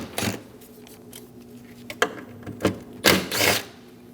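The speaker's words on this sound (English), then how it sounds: "Using a 10mm socket, remove the bolt on either side for the fuel rails." A ratchet with a 10mm socket loosens a fuel rail bolt on a 2011-2018 Ram 1500 5.7L V8, giving sharp close metallic clicks and short bursts of ratcheting between quiet gaps.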